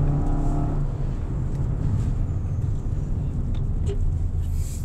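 A 2024 Suzuki XL7 Hybrid's engine hums steadily at driving speed, with its electric motor assisting, a low continuous drone with road noise and no talking.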